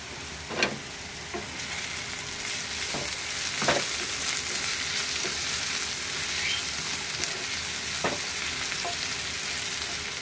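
Onion and tomato sizzle steadily in a pan on a gas flame, with a spoon scraping and stirring in several sharp strokes over the constant frying hiss; no one speaks.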